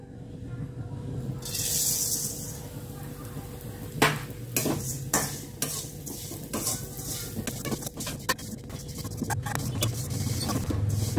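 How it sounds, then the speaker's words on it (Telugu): Vermicelli (semiya) roasting in a little oil in a pan on a low flame, with a soft background hiss broken by sharp clinks and scrapes of stirring against the pan. No one speaks. "సేమియాని దూరగా వేయించుకోవాలి. దానికోసం కొంచెం ఆయిల్ పోసి సిమ్లో పెట్టుకోండి స్టవ్"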